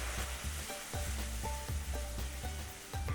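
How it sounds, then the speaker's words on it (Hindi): Fresh tomato puree hits browning garlic in a hot pan, a loud steady sizzle with rhythmic stirring scrapes about twice a second. "पहले हम टमाटो प्यूरी डाल देंगे"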